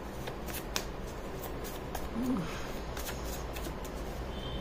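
A deck of tarot cards is shuffled by hand, a series of soft close riffling flicks and taps over a quiet room hum, with a brief murmur of voice in the middle.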